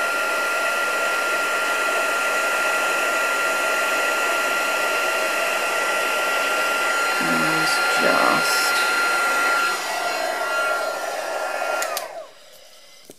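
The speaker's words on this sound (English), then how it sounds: "So let's bring in our heat tool." A heat tool blowing hot air for embossing a papercraft project, a steady loud whirring hiss that runs continuously before cutting off near the end, with brief faint clicks and handling noises.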